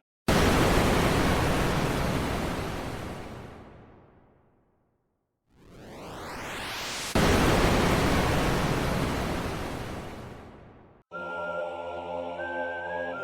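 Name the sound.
pyrotechnics sound effect from the video game Sprunki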